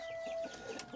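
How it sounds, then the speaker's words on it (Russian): Chickens cluck faintly inside a chicken coop, a few soft, short calls scattered over a quiet background with no one talking. "Куры, куры."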